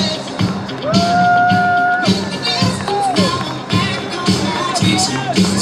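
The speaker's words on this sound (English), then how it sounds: "let's cheer these guys on." Spectators cheer and shout from the stands and trackside at a boys' youth running race, a loud continuous crowd roar with whoops and bursts of shouting, alongside a public-address announcer.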